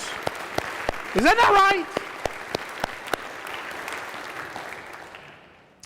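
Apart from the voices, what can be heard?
church congregation applause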